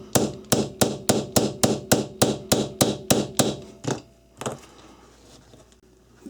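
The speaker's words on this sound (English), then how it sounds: "Whack it in there with my plastic side of my hammer." The plastic face of a hammer drives a punch into the alloy frame of a 1911-style .22 LR pistol: about a dozen sharp, evenly spaced close strikes, then a few slower, quieter taps, with no talking.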